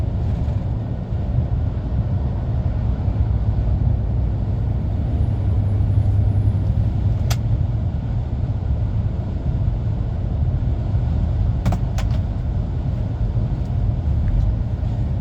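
HGV lorry descending a hill with its retarder engaged, a steady loud low rumble and drone heard from the cab, continuous throughout with a couple of brief faint clicks.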